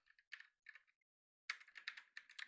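Keys clatter in quick, quiet bursts on a computer keyboard while a command is typed in Kali Linux, with a short pause between two runs of keystrokes and no talking.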